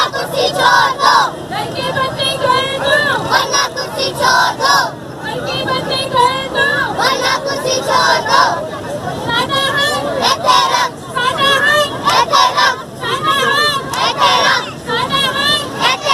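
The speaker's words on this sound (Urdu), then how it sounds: "متاثرین شدید نعرے بازی بھی کر رہے تھے" Protesters affected by the Gujjar Nala demolitions shout slogans together at a street demonstration, a loud crowd of voices rising and falling in continuous chanting with overlapping shouts.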